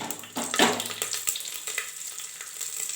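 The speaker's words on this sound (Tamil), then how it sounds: "கறி மசால் ஜாமாலாம் இதில் போட்டுக்கலாம் பொரியட்டும்" Curry masala hits a hot pan and frying erupts with a sudden hiss, then a steady crackling sizzle with light stirring scrapes, close up and without talk.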